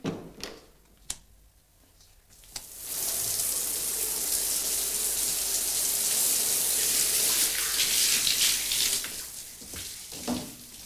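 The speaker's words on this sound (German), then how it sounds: "So, und jetzt muss ich unter die Dusche." Shower water running steadily in a domestic bathroom, a broad continuous hiss that swells after a few quiet seconds with brief knocks and then holds loud and close.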